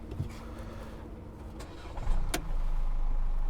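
Mercedes-Benz Vito 2020 van starting up: a short crank around the two-second mark, then the diesel settles into a steady, fairly loud idle after a low background hum.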